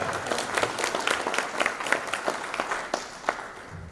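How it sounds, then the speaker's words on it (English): A crowd applauds steadily, with scattered individual claps standing out from a moderate, continuous patter. "Big round of applause for Vandana."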